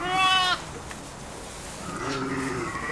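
Sheep and newborn twin lambs bleat on a farm at lambing time, one clear close bleat followed by fainter calls from further off.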